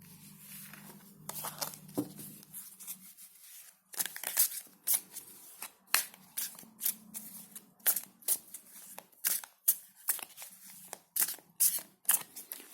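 Tarot cards are shuffled repeatedly at close range, crisp riffling bursts coming in a regular rhythm, preceded by a low hum and faint handling noises.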